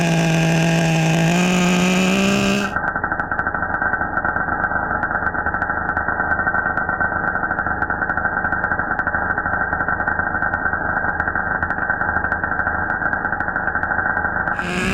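A Team Losi XXX-NT nitro RC car's OS 12CV engine on 30% nitro fuel screams at high revs, then settles into a loud, steady buzzing idle with rapid sputtering pulses, close by and continuous.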